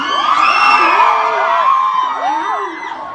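A concert crowd in New Jersey cheers and whoops loudly, with high shouts and screams rising and falling over a dense roar of voices, sustained and close throughout.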